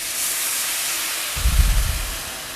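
White wine goes into a hot pan of translucent risotto rice and hits with a sudden burst of loud steamy hiss and low bubbling over a constant background hiss.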